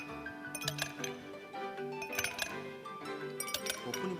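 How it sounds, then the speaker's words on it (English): Ice cubes clink against the sides of a cup, a scattering of bright glassy taps and rattles in uneven bursts, close and fairly faint. "The Joy-Con can convey to you the feeling of ice cubes colliding in a cup."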